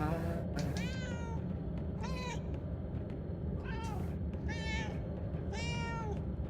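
Several drawn-out cat meows from Murdered: Soul Suspect, spaced through a steady low game hum, close and clear with rising and falling pitch.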